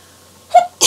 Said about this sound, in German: Oh Gott, ich muss niesen.